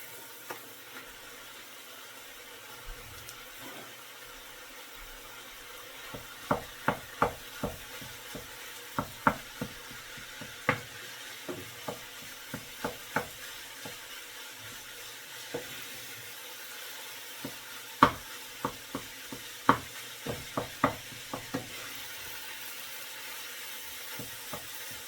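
Ground beef sizzling in melted butter in a pan for low carb beef stroganoff, a steady soft fry broken by clusters of sharp crackles and pops, close and fairly quiet, with no talking.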